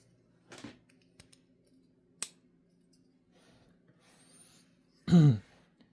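A Kizer Seagull folding knife, a metal-framed model, releases its lock with a brief click, followed by quieter fiddling and a short louder snap near the end, in otherwise quiet surroundings.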